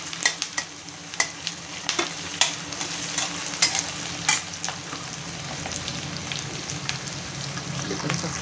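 Bay leaves and spices frying in a pan for a spinach paneer dish, a steady close sizzle with scattered crackles and pops and occasional stirring scrapes, no voices.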